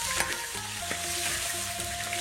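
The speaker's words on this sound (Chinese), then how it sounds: "油热，姜蒜爆香" Ginger and garlic frying in hot oil in a wok before lamb hooves are added, a loud steady sizzle with occasional stirring scrapes, close up and without any voices.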